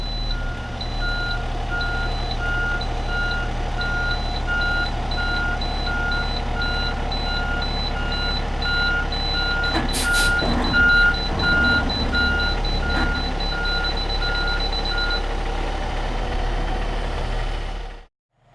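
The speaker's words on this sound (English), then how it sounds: "I can hear the audible alerts going off right now." Repeated backup sensor alert beeps from a PreView Sentry system on a refuse truck, steady rhythmic tones over the truck's idling engine, continuing for many seconds before stopping.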